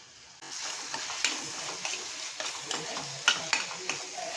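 Spiced masala of turmeric, red chilli, garam masala and Malvani masala sizzles steadily in a pan as it is sautéed, with repeated soft stirring clicks and scrapes over a constant close frying hiss, no voices.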